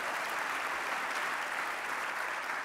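An audience applauds in a steady, dense wash of clapping at a mayor's public address, sustained and fairly close throughout.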